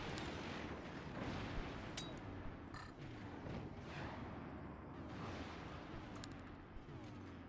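Cannons fire in the Forts strategy game as a dense, continuous roar of booming shots and explosions, with several sharper cracks standing out amid the rumbling barrage.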